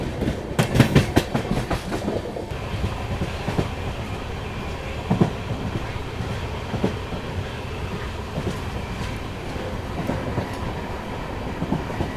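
The Jayanti Janta Express rolls along with steady rumbling and rhythmic clickety-clack of wheels over rail joints, a burst of sharp clacks early on, heard from inside a carriage with no talking.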